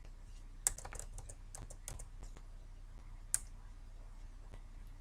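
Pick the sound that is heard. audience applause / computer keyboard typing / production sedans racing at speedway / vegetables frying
computer keyboard typing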